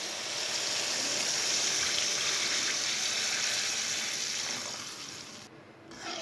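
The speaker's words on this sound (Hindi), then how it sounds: "3 गिलास पानी डाल लेंगे।" Water pours steadily into a cooking pot of sautéed ingredients for a pea and potato pulao, a continuous broad splashing rush that tapers off near the end.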